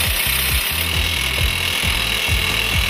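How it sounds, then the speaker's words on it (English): An ExcaDrill rock drill attachment on an excavator drills into rock with a steady grinding roar and a regular thumping, churning rhythm that repeats about every half second, loud and close with no talk. "Pressing the start button begins drilling at half speed"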